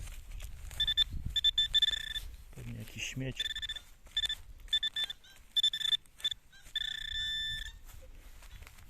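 A steady electronic beeping pulses in short bursts, close by, from a metal detector pinpointer, while someone talks over it at a few points.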